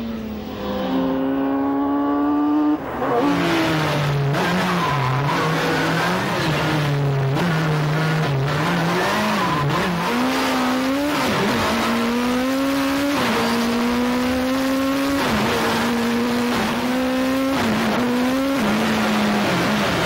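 A sports car engine screams at high rpm on a track, revving up to around 11,000 rpm, rising and dropping through gear changes, loud and close with no talking.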